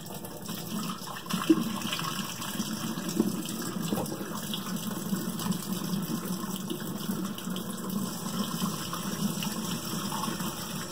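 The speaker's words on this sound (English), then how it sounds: "now I'm going to wash my hands again." Tap water runs steadily into a kitchen sink while hands are washed, making a continuous splashing gush at moderate level with no voices.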